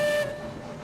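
Steam locomotive whistle in the video game Railroads Online, a single short loud two-tone blast that cuts off quickly into a fading hiss.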